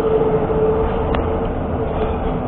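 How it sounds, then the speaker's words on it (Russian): Old tram rattling along a city street in the centre of Komsomolsk, a loud continuous rumble and clatter with a brief metallic squeal partway through, heard close by and without talk. "вот он, трамвай едет, кстати. Уже, вот, еще ходят, значит, по центру трамвая. Вот он как гремит"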